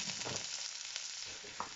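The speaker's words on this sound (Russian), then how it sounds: "И теперь я туда бросаю лук." Oil sizzles and crackles steadily in a frying pan as onion fries, a close, continuous hiss with small pops.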